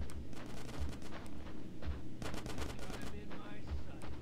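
Automatic gunfire rattles in Grand Theft Auto San Andreas, repeated bursts of rapid shots under a steady low game rumble, fairly faint in the mix.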